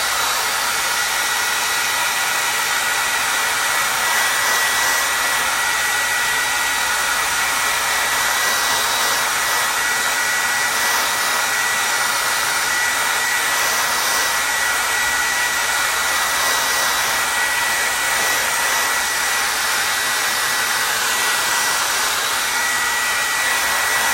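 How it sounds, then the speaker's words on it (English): A blow dryer roars steadily and loudly at close range for the whole stretch, a constant broadband whoosh drying chalk paste on a craft project, with no talk. "So I'm going to take a blow dryer to this real quick so that we can go ahead and put our next layer on."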